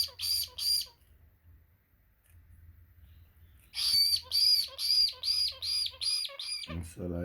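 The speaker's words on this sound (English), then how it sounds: "Parakeet." Baby parakeets a few days old squawk in a rapid, rhythmic series of shrill calls, two at first, then a long run of nine or so after a pause, close and loud over a faint low hum.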